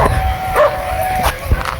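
Several short dog barks and yips ring out close by, mixed with a steady whine and some background voices.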